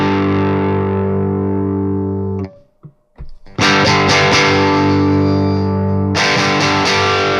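A heavily distorted electric guitar runs through a Bogren Digital amp simulator with EL34 power valves, playing a long sustained chord, a short gap, then chugging palm-muted riffing and another ringing chord, loud and dense.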